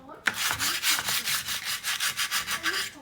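Wood being sanded by hand with sandpaper, a quick run of rhythmic back-and-forth scratchy strokes, close and fairly loud, after an initial knock.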